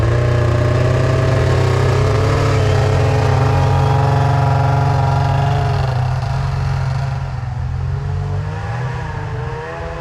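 A 1999 Arctic Cat ZR600 snowmobile engine drones loud and steady as the sled creeps off slowly from a stop with suspected clutch trouble, the roar holding a low even pitch before easing slightly toward the end.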